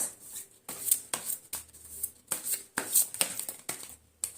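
Tarot cards shuffled and drawn by hand in a rapid series of crisp riffles and slaps, close and quiet, with short pauses between bursts.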